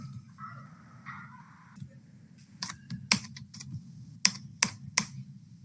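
Typing on a computer keyboard: scattered soft key taps at first, then a burst of sharper, louder clicks in quick irregular succession, close and with no talk.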